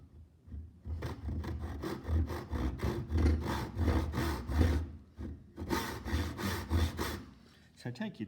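A hand saw cuts wood for a bridle joint on a sling puck game, making steady, close rasping back-and-forth strokes that pause briefly near the middle and then resume.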